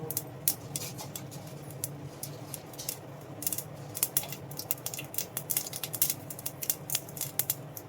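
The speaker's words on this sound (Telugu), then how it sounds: "ఆవాలు ఆడుతున్నాయి" Mustard seeds crackle and pop in hot oil in a pan, a dense run of sharp, irregular snaps that thickens toward the end over a low sizzle, with no voices.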